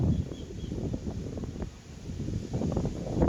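Strong monsoon wind gusting against a small hovering drone, a continuous broadband roar and buffeting that dips briefly mid-way, with a faint propeller whine high above, no talking.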